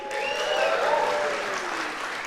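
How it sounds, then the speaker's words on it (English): Audience applause at a conference keynote opening, Big Android BBQ 2015, a steady crowd clapping that holds for the full moment and does not fade. "Round of applause, who's ready for some barbecue?"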